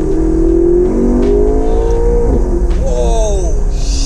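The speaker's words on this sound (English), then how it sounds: "Okay, so let me downshift now." A car's engine revs and drops as the driver downshifts on a test drive, with a rising, falling pitch sweep and a second quick blip near the end; people talk faintly over the steady engine drone.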